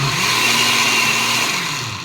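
Kitchen blender whirring at its high setting while blending homemade sweet and spicy BBQ sauce: a loud, steady motor drone that holds close and constant, easing off slightly near the end.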